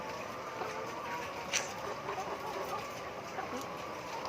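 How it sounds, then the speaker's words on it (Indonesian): Flock of 14-week-old laying hens in molt clucking steadily at moderate distance, with a few sharper calls standing out over continuous barn background noise. "mereview ayam yang umurnya masih 14 minggu dan sedang mengalami molting atau rontok bulu"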